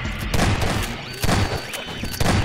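Gunfire in Garry's Mod, aimed at eggs in the Hell's Prison horror map, arriving as a few loud separated bursts of shots spaced roughly a second apart, with no talk.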